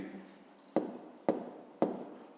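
Pen or chalk strokes writing an answer by hand, with three sharp taps at even spacing over a faint background hiss, close and quiet, no voice.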